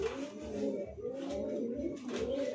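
Fancy long-bodied pigeons in a pigeon loft give low, throaty coos in a steady repeating pattern. The cooing is close and moderately loud over a faint background hum.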